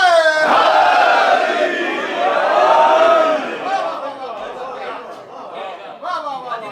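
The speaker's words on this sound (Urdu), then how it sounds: "جو نعرے لگائے گا پاک علی کی سواری کو جا رہا ہے تو وہ بازو بلند کر کے نعرہ" A crowd at a 13 Rajab celebration for Imam Ali in Ishøj, Denmark chants religious slogans in loud, ragged unison, with several swelling waves of massed voices and a final burst near the end.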